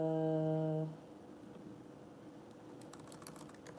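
Light keyboard typing on a computer keyboard, a few soft, quick key clicks near the end, faint and close, after a steady electronic tone fades out.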